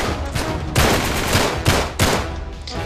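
Loud bursts of rapid gunfire in Uncharted 3's London Underground level crack one after another at close range, filling the whole stretch with dense, harsh shots.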